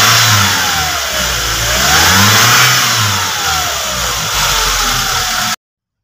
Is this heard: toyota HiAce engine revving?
yes